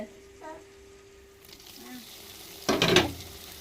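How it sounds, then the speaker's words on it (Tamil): Onions fry in a pan as chopped tomato and ginger paste go in for a ginger squid dish; a faint hum lies under near-silence, then a sudden loud burst of sizzling erupts near the end and fades quickly. "வெங்காயம் நல்லாவே வதங்கி வந்துருச்சு நம்ம வெட்டி வச்ச தக்காளி இஞ்சி பேஸ்டையும் சேர்த்துக்கிறோங்க"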